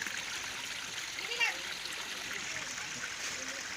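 Lukewarm water from a mountain spring at Mapaso Spring in Irosin, Sorsogon, flows and splashes in a steady broadband rush, near and continuous, with a brief louder splash early on.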